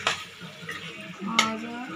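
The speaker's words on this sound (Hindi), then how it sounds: "अब हम इसमें ये जो हमने छोले अपने बॉईल करके रखे थे, इनको डाल देंगे" Boiled chickpeas tipped into cooked masala in a pan for chole, giving a short clatter and soft stirring scrape against the metal, with a faint sizzle underneath and no talking.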